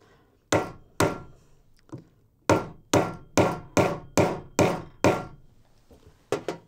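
Hammer blows striking a nail into wood during a hands-on building activity, about ten sharp, loud thwacks in an uneven rhythm with short pauses between strikes, heard up close and alone.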